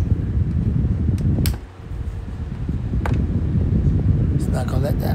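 A Pelonis air circulator fan runs with a loud, steady airy whoosh close by, dipping briefly before resuming, and a voice is heard over it.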